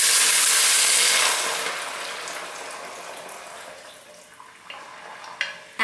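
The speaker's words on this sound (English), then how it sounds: "I'm going to be putting in some water." Water pours into a soup pot on the stove, a bright rushing splash that is loud at first, then fades to a quieter trickle, with a few small clinks near the end.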